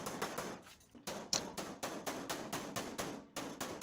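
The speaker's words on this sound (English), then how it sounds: "Now I have a door skin hammer. That's a specially curved" A specially curved door skin hammer taps repeatedly to fold the edge of a car door skin, a steady series of close, sharp metallic blows with brief pauses between groups.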